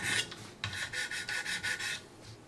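A knife edge being honed on a Wicked Edge precision sharpener: a series of close, rhythmic rasping strokes of the stone along the blade, about eight quick passes in a row.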